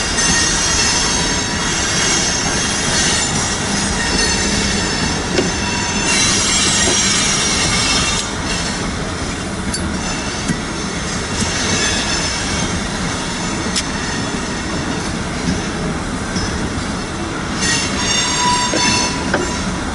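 A BNSF loaded coal train rolls steadily past nearby, a continuous loud rumble of railcars with wheel squeal and rattling, and no voices.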